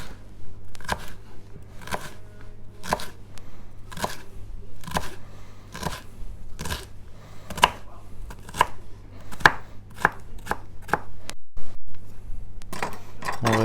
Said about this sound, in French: On rassemble les fagots et on coupe dans l'autre sens.